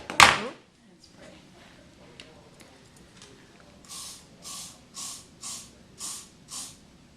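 Hairspray spritzed onto hair while styling bridal barrel curls, a run of about six short, evenly paced hissing bursts near the end, close and fairly loud, after a quiet stretch.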